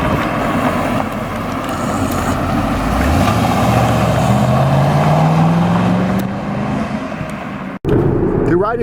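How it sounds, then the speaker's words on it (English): A truck passing on a dusty desert road, its engine rising to a loud, near rumble and then fading, heard from inside a moving car over steady road noise, with a brief dropout near the end. "This truck's going to kick up all kinds of dust on us"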